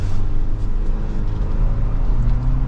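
A 2024 Toyota Land Cruiser off-road SUV cruises with a low, even engine hum and road rumble from inside the cabin, steady and fairly loud with no sharp revving.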